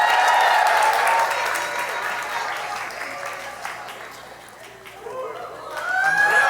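A crowd of students cheers and applauds during a timed classroom stacking activity, loud and continuous, dipping in the middle then swelling again, with some shouting voices mixed in.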